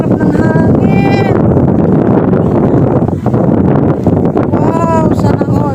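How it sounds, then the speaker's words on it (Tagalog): Strong wind at the beach buffets the microphone in a loud, continuous roar, with voices speaking faintly underneath at times. "Sarap ng hangin."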